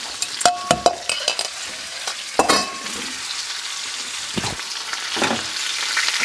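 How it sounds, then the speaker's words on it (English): Butter sizzles in a pan while Chilean seabass is basted, a soft crackling hiss broken by sharp spoon-and-pan clinks and scrapes, fairly close and not very loud. "Put some butter in it, and now we're going to start the basting process."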